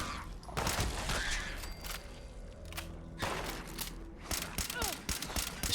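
Gunfire in Fallout 76 while shooting rats, bursts of shots and impacts mixed with game sound effects and thuds, loud and close, with speech heard intermittently.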